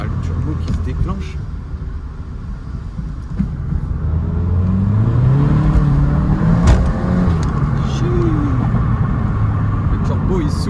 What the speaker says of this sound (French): Le turbo il souffle.